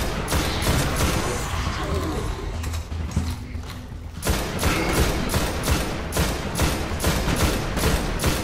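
Rapid gunfire in the Destiny video game, a steady run of loud repeated shots that carries on for most of the stretch, with a brief dip partway through.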